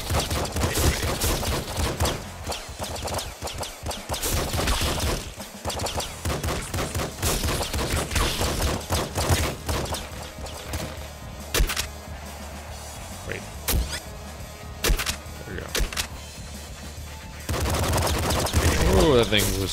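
Rapid, dense gunfire from the video game Nuclear Throne, loud continuous volleys of shots and impacts throughout, with a person occasionally talking over the barrage.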